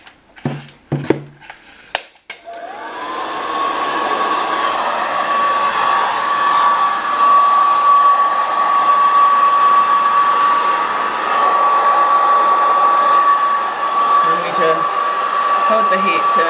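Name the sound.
hair dryer with diffuser drying hair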